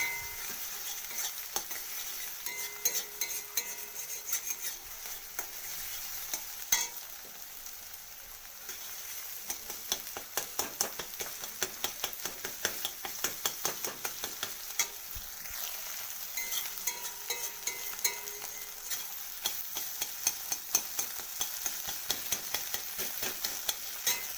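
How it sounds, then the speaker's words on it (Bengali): Egg frying in hot oil in a pan while being scrambled for egg chowmein, a steady low crackling sizzle with frequent scraping stir clicks throughout, close but quiet, no voices. "তো ডিমটাকে আমি ভেজে নেব।"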